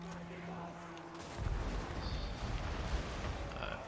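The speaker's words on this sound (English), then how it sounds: "More artillery to get into them." Artillery fires in a Total War Warhammer 2 battle, with a quiet start before a dense rumble of repeated blasts and crackling impacts rolls in and continues, somewhat distant and muffled, under faint talk.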